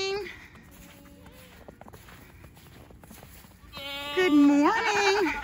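Goats bleating outdoors in wet, slushy snow, with a couple of long wavering bleats up close near the end following a quieter stretch of shuffling and footsteps, and a person talking nearby.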